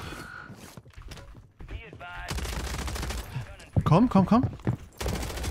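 Bursts of rapid rifle fire from the video game Fortnite crackle in short volleys, mixed with other game effects while a player talks over them.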